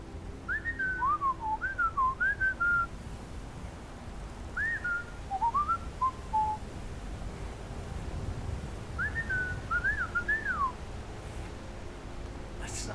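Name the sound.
NPC whistling a song in the video game Skyrim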